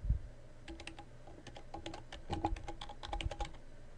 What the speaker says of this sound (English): Type in your old password.